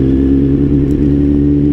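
Cars and motorcycles crawling in a rainy traffic jam, heard as a loud, steady engine drone with a constant low hum, close by, and a brief hiss near the end.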